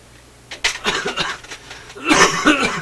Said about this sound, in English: Can't control the coughing.